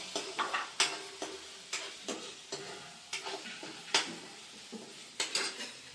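Ginger and garlic sauté in a pan with a gentle sizzle under frequent sharp metallic taps and scrapes of a spoon stirring, close and fairly quiet, with no talking.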